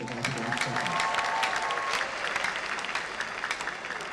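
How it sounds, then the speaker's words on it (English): Steady applause from a crowd gathered at a church or public address in Nigeria, fairly soft and sustained throughout, with a murmur of voices beneath the clapping. "Clap for yourself"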